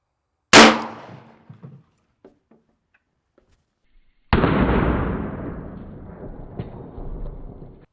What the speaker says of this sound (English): I'm just gonna shoot him one more time in the mouth and see if I can get him square on